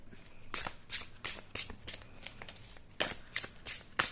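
Tarot cards are shuffled in a quiet room, giving a run of soft riffling bursts in two clusters with brief pauses between them, close and with no talk.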